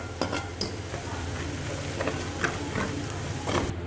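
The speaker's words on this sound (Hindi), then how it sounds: "अब हम इसको मिक्स कर लेंगे अच्छे से।" Salt, turmeric and red chili powder get stirred through hot oil in a pan for an egg and potato curry, a continuous sizzle broken by scraping spoon strokes and light clinks of metal.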